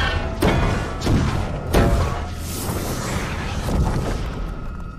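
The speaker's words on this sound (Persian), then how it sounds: "توپ ها رو شلیک کنید." Cannons firing in a battle scene from a dubbed Hindi film, with three heavy booming thuds early on over a dense, rumbling background.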